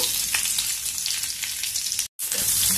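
Garlic, dried chillies and curry leaves frying in oil, a dense, constant, crackling hiss heard up close with a very brief cut to silence near the end and no voices.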